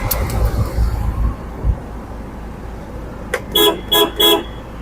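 Horn of a 2015 Ford EcoSport Trend honking in three quick bursts close by, after a stretch of low idle rumble with no one talking.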